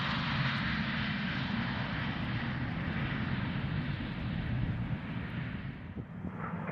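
Cessna Citation private jet landing at Scottsdale airport on runway 21: a steady, distant jet engine roar with broad rushing wind-like noise, fairly faint and unbroken, no talking.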